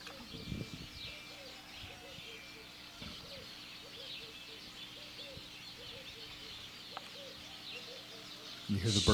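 Birds coo and call softly in the background outdoors, a steady low chorus of faint repeated notes with a few brief bumps and handling noise near the end.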